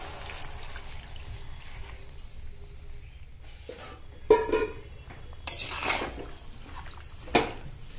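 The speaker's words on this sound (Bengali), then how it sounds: "এবার জল দিয়ে দিচ্ছি।" Water poured into a pan of frying bottle gourd greens, giving a few short splashy bursts with faint utensil clinks against a quiet kitchen background.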